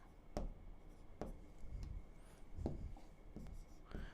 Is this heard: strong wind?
no